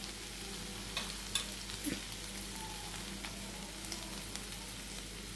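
An ivy gourd curry is stirred in a pan, giving a steady low sizzle of frying with faint scraping and a few small clicks, no talking.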